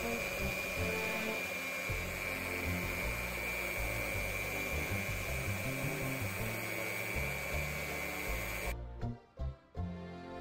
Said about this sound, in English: A final whisk and it's all ready to be baked.